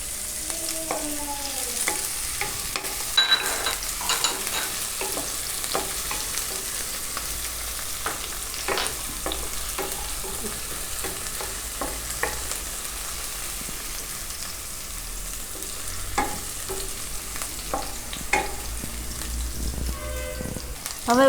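Green garlic sizzles and crackles in hot oil with green chillies, stirred now and then, a steady close frying hiss with scattered pops and scraping strokes, and a voice talks faintly over it.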